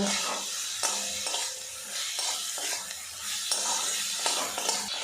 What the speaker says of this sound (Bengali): এবার এর মধ্যে দিয়ে দেবো ভেজে রাখা কাঁকরোল। মশলার সাথে একটু কষিয়ে নেব।